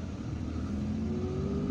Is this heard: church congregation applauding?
no